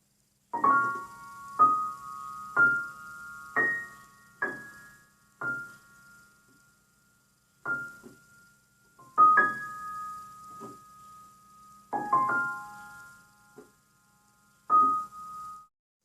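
Piano notes and small chords are struck slowly and softly, each ringing out and fading, with brief pauses between phrases.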